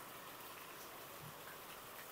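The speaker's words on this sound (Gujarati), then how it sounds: "બહાર ખૂબ વરસાદની રેલમ છેલ્લમ છે અને મન મૂકીને વરસાદ વરસી રહ્યો છે" Heavy rain pouring outside during a downpour, a steady dense hiss of falling water with no breaks, fairly faint and distant-sounding throughout.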